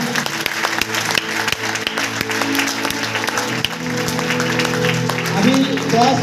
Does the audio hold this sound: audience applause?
yes